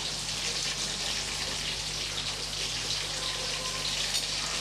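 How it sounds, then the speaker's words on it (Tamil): Brinjal pieces sautéing in hot oil for a tamarind kuzhambu, a steady dense sizzle holding close and even throughout with no pauses. "இப்போ இதில் நம்ம கத்திரிக்காயை சேர்த்து நல்லா வதக்கிக்கலாம்."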